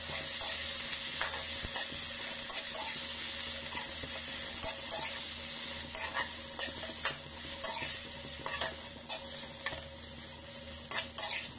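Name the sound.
frying fish in hot oil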